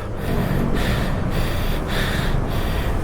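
Heavy, rapid panting after carrying three bulky boxes, the breaths close and loud with short gaps between them, and no talking.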